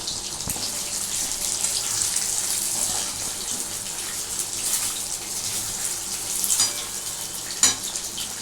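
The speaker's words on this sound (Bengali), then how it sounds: "এগুলো একটু ভাগে ভাগে ভেজে নিচ্ছি।" Chitol fish muitha dumplings fry in a batch of oil with a loud, hissing, bubbling sizzle, continuous and close, with an occasional utensil clink.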